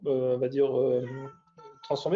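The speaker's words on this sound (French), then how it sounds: "C'est mon chat qui vient, comme à chaque fois que je fais un webinaire" A house cat meows close to the microphone indoors, a long drawn-out cry followed by shorter calls, overlapping with someone speaking French.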